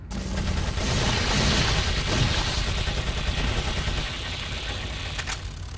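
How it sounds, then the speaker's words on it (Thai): Sustained machine gun fire blazes in Resident Evil 4, a dense, loud, continuous stream of rapid shots filling nearly six seconds before easing slightly near the end. "อ๋อต้องใช้ปืนกลแล้วสิ"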